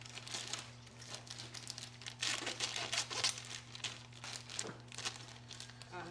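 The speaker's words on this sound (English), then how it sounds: "I'm taking an old recycled Ziploc baggie and I am going to cut it open." Recycled plastic Ziploc bag being cut open, giving soft crinkling and crunching rustles in irregular bursts, close and moderately quiet over a steady low hum, with no talking.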